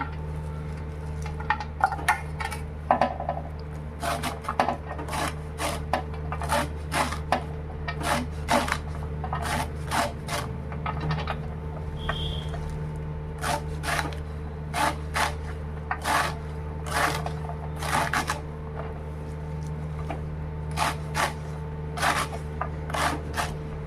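A knife chops red amaranth greens on a board in a steady run of sharp, evenly spaced taps over a constant low hum, with a few brief pauses between bursts.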